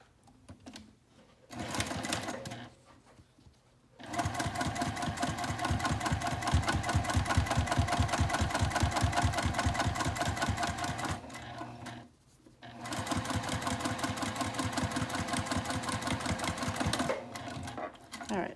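A sewing machine topstitching an eighth of an inch from the edge of a fabric sling runs in two long, steady bursts of rapid even stitching, with short pauses and a brief start between them.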